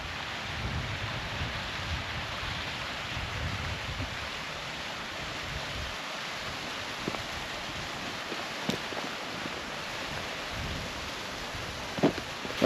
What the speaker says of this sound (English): There's a waterfall down there.